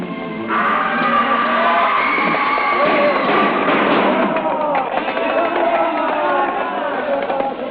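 In a 1937 radio drama, a crowd flees mounted police, heard as a dense, muffled tumult of shouting and commotion that carries steadily across the whole scene.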